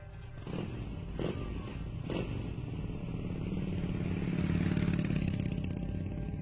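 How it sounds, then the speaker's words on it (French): A motorcycle rides away, its engine rumbling low and fairly faint with a few clattering knocks early on, steady and unaccompanied. "Chassé du musée par Ed Warren, le jeune homme part furieux sur sa moto."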